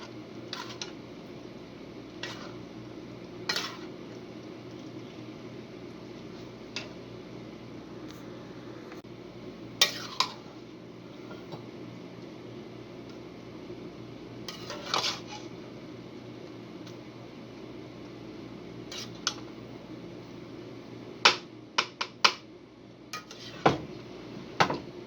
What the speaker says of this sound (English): Mix that all up, and it'll be time to eat.